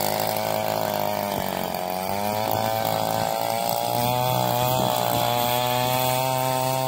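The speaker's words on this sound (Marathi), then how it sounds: "मशीनचा आवाज फार मोठा आहे" A pit-digging machine works a mango and coconut plantation, its loud, steady engine drone with harmonic whine running continuously and close up, rising and dipping slightly in pitch as the auger bites into the ground.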